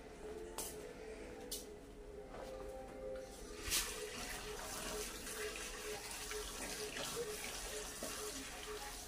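Green chilies are rinsed under a running tap in a village home in Pakistan, with a steady, fairly faint stream of water and a brief clatter partway through.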